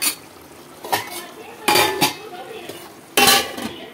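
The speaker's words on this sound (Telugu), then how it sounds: "ఇప్పుడు మూత పెట్టేసుకుందాం" Metal lid and utensils knocking against a pot of cooking chicken curry, several separate close clanks and scrapes over a soft background.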